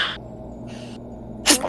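A single sharp, loud sneeze bursts out near the end, followed by a brief softer tail, after a quiet stretch with faint background murmur.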